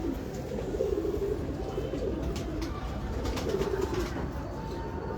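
Pigeons cooing in a loft, soft repeated low coos over a constant background hum, with occasional faint clicks and rustles.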